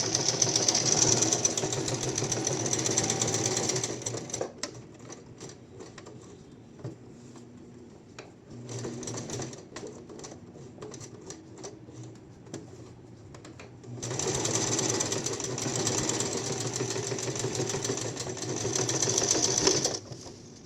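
A sewing machine stitches a placket seam in two loud bursts of rapid, steady whirring at the start and end, with quieter handling and faint clicks between.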